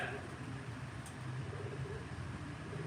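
Pigeons cooing in a low, steady murmur at a live pigeon auction in Batman, with a continuous crowd-like hum filling the background.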